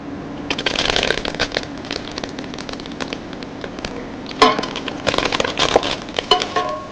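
Curry leaves dropped into hot oil with browned fenugreek crackle and spit in sharp bursts, a dense scatter of pops that flares up, eases, then surges again close by while making puliyodharai.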